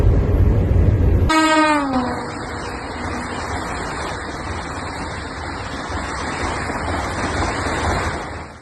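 A Vande Bharat sleeper train on a high-speed trial run sounds a short horn blast, then a loud steady rush and rumble of the train passing continues throughout.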